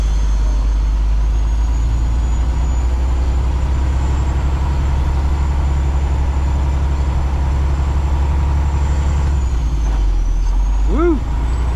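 A semi truck hauling a hazmat trailer rumbles steadily at close range as it edges past a roadside ditch, its low engine drone continuous, with a brief squeal or hiss near the end.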